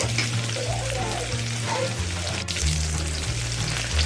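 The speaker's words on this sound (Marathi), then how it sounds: "साधारण दोन ते तीन चमचे तेल सोडलेलं आहे चांगलं गरम होऊ द्यायचं आहे त्याच्यात गरम झाल्यानंतर लसूण बारीक चिरलेली आलं" Finely chopped garlic and ginger fry in two to three spoonfuls of hot oil for veg Hakka noodles, making a loud, continuous sizzle that stays close and even throughout.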